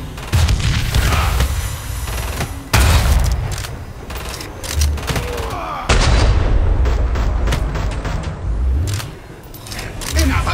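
A boss fires guns in Killing Floor 2, sending loud, repeated booming blasts and bursts of gunfire over a heavy game soundtrack, with voice lines spoken between the shots.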